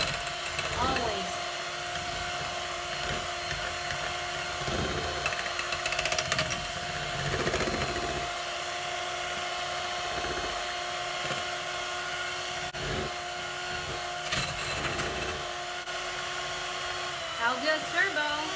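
Electric mixer running on turbo while mixing mascarpone cheese for tiramisu, a loud steady whine throughout with brief thumps and rattles, and a person talking over it.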